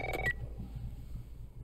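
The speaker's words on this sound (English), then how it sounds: "Sarah, honey, I need to get your daddy on the phone." A telephone is dialed in the video game The Last of Us Part 1: a quick burst of a few keypad tones, followed by a quiet low hum.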